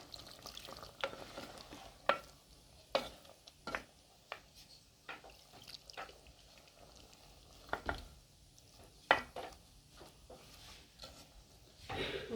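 Broccoli cooking in a pot in an African village kitchen, heard as soft stirring scrapes and faint sizzling taps scattered irregularly, fairly quiet and close, with no talking.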